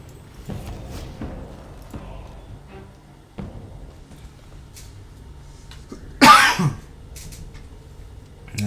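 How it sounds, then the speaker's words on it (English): A person gives one sharp, close cough in an otherwise quiet room, with a few soft thumps before it. "Yeah, I'm so over this cough."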